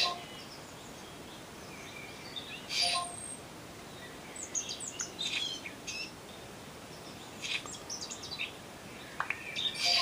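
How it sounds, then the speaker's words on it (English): Birds chirp in a video game woodland ambience, with scattered short tweets and calls at moderate distance over a soft steady background hiss. "It's just birds chirping in the background, as you hear in the woods or at a park with trees."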